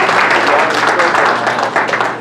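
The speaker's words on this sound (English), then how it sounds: "One more hand of applause for" Audience applause at a Kitsap Patriots Tea Party event, a dense wash of clapping hands held steady across the whole moment with some crowd murmur mixed in.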